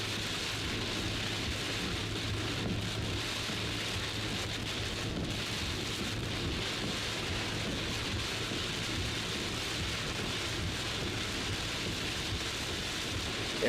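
Heavy thunderstorm rain drums steadily on a car during a drive in Farnham, forming a dense, even wash of noise over a low engine and road hum.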